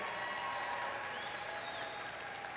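Graduates and guests at a Daytona State College commencement ceremony applaud steadily, a broad, even roar of clapping from a large indoor audience that holds for the whole moment without speech.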